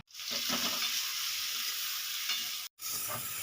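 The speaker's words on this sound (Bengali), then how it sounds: "আমি চিংড়ি মাছটা ভালো করে ভেজে নেব" Prawns sizzle steadily in hot mustard oil seasoned with salt and turmeric in a wok, with loud, continuous frying hiss and faint stirring, and a brief break near the end.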